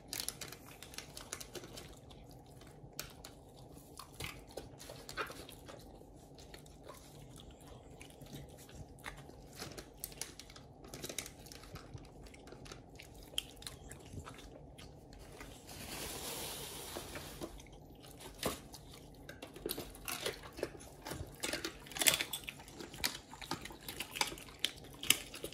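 A dog chews raw meat, wet crunching and biting clicks repeating irregularly and close up in a quiet room, with no talking.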